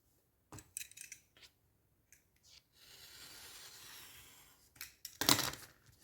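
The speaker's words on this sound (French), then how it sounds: "je vais déjà découper ça et je vais voir comment je vais pouvoir le découper" Scissors cutting paper for a small pocket mini album: several close, sharp snips and a longer sliding cut, spaced by short pauses, with no talking.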